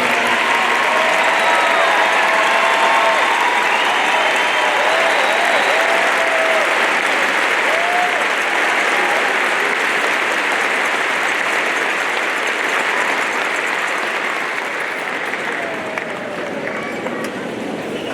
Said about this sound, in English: would you please stand and give them a round of applause for their decision to serve?